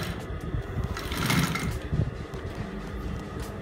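Industrial flat bed sewing machine running steadily as it stitches forward and then backstitches, a continuous close mechanical whirr with a slight swell in the middle and no talking.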